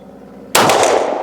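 A single sharp report from a SIG P210 9mm pistol on a 25 m outdoor range, a loud sudden crack after a quiet moment, followed by a short decaying echo.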